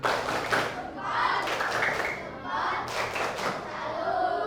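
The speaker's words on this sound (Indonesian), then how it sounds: "Kita beri tepuk salut untuk Sabian dan Wildan." A primary school class performs a rhythmic 'tepuk salut' clapping routine for two classmates, hands striking in patterned bursts with thuds and taps, the children's voices chanting along throughout.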